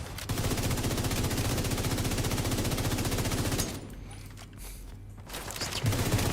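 Automatic gunfire from shooting enemies in a video game hammers out in fast, evenly spaced rounds for several seconds, then drops to scattered quieter shots before picking up again near the end.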